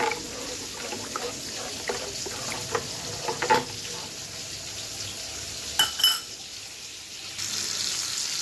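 Hilsa fish pieces frying in a masala in a pan give off a steady, close sizzle, with scattered stirring clinks and scrapes and a couple of louder clatters near the end.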